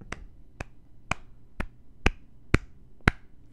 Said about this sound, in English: Let's have a slow clap.